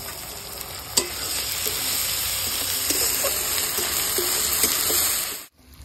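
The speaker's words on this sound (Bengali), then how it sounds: "বন্ধুরা মশলা আমার পেঁয়াজ ভাজা হয়ে গেছে" Chopped onions and ginger paste frying in a pan with cardamom, a loud continuous sizzle with occasional stirring clicks, close up and steady before stopping abruptly.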